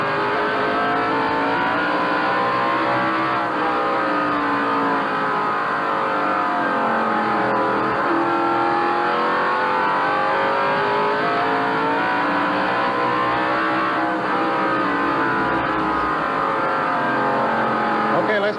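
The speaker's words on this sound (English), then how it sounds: "we'll once again go inside the Dale Jarrett car and take you for a few laps around North Wilkesboro" Onboard engine of a NASCAR stock car at the 1988 First Union 400, lapping the 5/8-mile North Wilkesboro track: a loud, steady roar with rising and falling pitch through the turns, continuous from start to finish.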